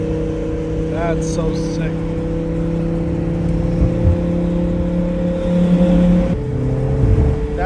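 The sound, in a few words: twin turbo Lamborghini Huracan engine and turbos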